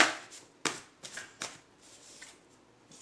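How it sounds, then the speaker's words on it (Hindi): Tarot cards shuffled and drawn during a reading, heard as a few sharp riffling bursts and soft card slaps, close and fairly quiet, with no talking. "एक कार्ड मैं और लूँगी।"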